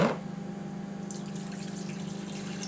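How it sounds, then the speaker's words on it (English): Water gushes and trickles as it drains from a Tupperware micro pressure cooker bowl into a kitchen sink, a continuous wet rushing with a low pump-like hum, and no one speaking. "we've drained off our water"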